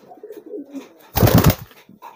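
A three-day-old squab pigeon gives a short, loud burst of squeaky cooing close by, standing out from quiet surroundings.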